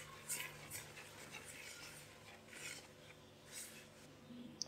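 Flour, baking powder, yeast, powdered sugar and salt are stirred together in a bowl, giving soft, faint scraping and rubbing strokes in an irregular rhythm, close by and quiet.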